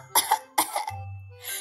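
Storyteller's voice imitating a sick old rabbit's cough: two quick rough coughs, followed by a brief low throaty rasp, close and alone.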